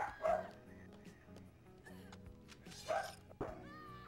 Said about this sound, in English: Gunner, can I kill your dog?